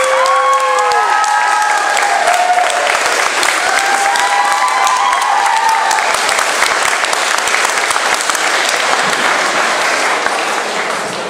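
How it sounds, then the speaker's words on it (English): Loud, sustained applause and cheering from a convention audience greeting Doctor Who actors Colin Baker and Nicola Bryant, with whistles and excited shouts rising early on, then steady clapping that fades slightly at the end. "if I can have a huge round of applause for Miss Nicola Bryant, Perfectly in Brown, and Colin Baker"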